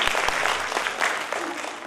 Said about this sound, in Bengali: পারমিতাদির জন্য একটু জোরে হাততালি হোক একবার।